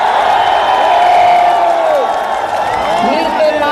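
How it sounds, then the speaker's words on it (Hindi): A huge outdoor crowd of about three lakh people at a BSP rally in Lucknow makes a loud, constant roar of voices and scattered cheering, with someone talking close over it. "लाख लोगों का मजमा जो है वो यहाँ पर है"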